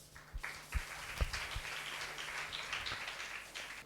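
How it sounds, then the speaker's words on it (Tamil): Scattered audience clapping for participants at a 2018 dance competition, a loose patter of hand claps with a few sharper nearby claps, moderately loud and steady for a few seconds with no talk. "எல்லாத்துக்குமே ஒரு கைத்தட்டு."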